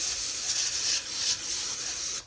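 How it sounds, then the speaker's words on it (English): Cooking spray hissing from an aerosol can into an 8-inch square metal baking pan, a close, continuous spray in a few slightly pulsing bursts that ends abruptly. "we're going to spray it with some cooking spray"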